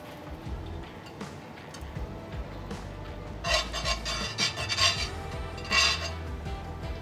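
A metal utensil scrapes and rubs against a pan while asparagus cooks in avocado oil and butter over medium heat, with repeated close rasping strokes that grow louder in several bursts.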